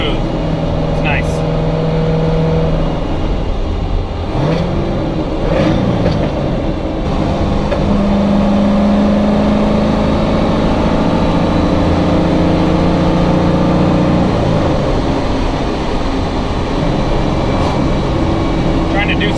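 A car is driven on the road with its engine running, a loud, steady drone and rumble of engine and road noise that continues throughout with slight shifts in pitch.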